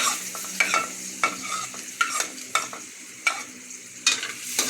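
Garlic and onion sautéing in a pot for sopas, a soft sizzle broken by regular spatula scrapes and knocks against the pan, close and without talk.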